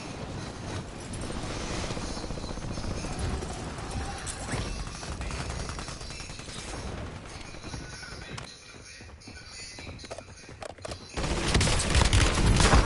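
Sustained automatic gunfire in a Call of Duty Warzone match on Rebirth Island, dense rattling bursts filling the stretch, easing into a quieter lull, then a loud renewed volley near the end.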